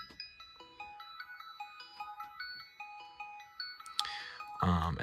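An 8-bit chiptune synth plays a guitar melody as bright, quick staccato beeps in a running pattern, ending with a short noisy burst.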